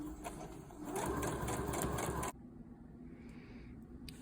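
A sewing machine stitches a quilted placemat with a fast steady whir for about two seconds, then stops abruptly, leaving quiet room noise.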